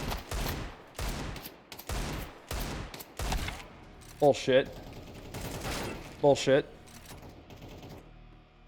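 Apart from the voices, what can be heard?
gunshots in a shooter video game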